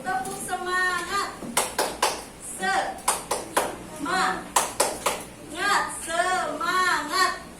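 Students in a maths classroom clap out a rhythmic 'tepuk semangat' cheer chant, sharp grouped claps in bursts alternating with a teacher's voice and children's chanting.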